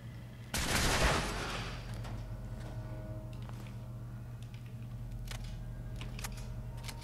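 Gunfire in the Fallout 4 video game, a loud close shot burst near the start that fades into a low rumbling ambience, followed by scattered fainter shots.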